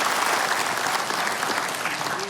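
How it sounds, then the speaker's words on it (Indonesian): Audience applause fills a party national working meeting hall, a dense, steady wash of many hands clapping at close range for the whole stretch. "Tepuk tangan untuk Bapak Ibu semua."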